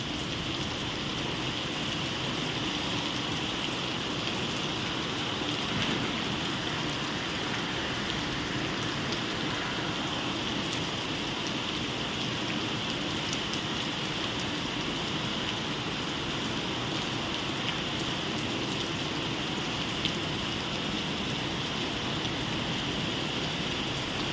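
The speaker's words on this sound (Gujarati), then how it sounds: "અમદાવાદમાં તો ફૂલ જબરજસ્ત વરસાદ છે ભાઈ" Heavy rain pours down steadily in Ahmedabad during Navratri, a dense, even wash of drops on surfaces that stays constant and fairly soft throughout, with no voices.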